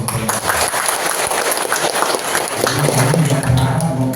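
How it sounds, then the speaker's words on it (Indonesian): A seminar audience in Jambi applauds, a dense, steady wash of clapping that fills the whole stretch at close range. "Jadi kita tepuk tangan untuk lomba"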